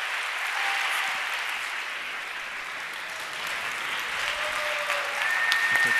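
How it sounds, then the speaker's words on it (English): An audience at a women in tech event gives a steady, diffuse round of applause, a continuous wash of clapping from a large room that swells slightly toward the end. "So let's give them an applause."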